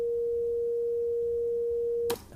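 A steady 500 Hz sine wave tone generated at amplitude 0.8, a pure unwavering pitch held for about two seconds before cutting off abruptly with a brief click.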